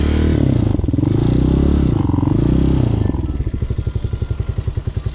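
A Hawk 250cc motorcycle idling and putting along at low speed through tight parking-spot U-turns, a close, loud engine that rises and falls with throttle, then settles into a steady chugging thump toward the end.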